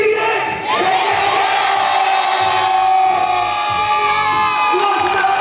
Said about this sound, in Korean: 마지막으로 티기리 갱갱기 외치면서 경기를 시작하겠습니다